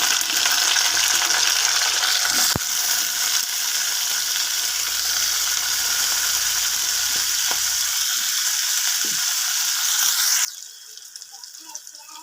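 Raw banana pieces frying in a hot tempering, a loud steady sizzle with a few clinks of the pan, dropping abruptly to quiet near the end.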